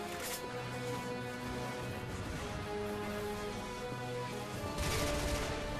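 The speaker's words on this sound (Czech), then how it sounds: "Co to po mně střílí?" Gunfire rings out in the shooter game Bulletstorm: dense, continuous bursts of shots and explosions layered under loud, busy game noise throughout.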